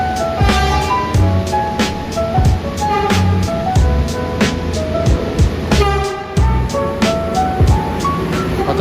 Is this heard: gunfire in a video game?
no